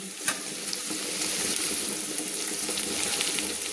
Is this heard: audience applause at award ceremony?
no